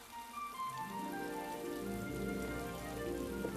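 Steady rain falling, a continuous close wash of drops on surfaces that holds an even level throughout, with no voices.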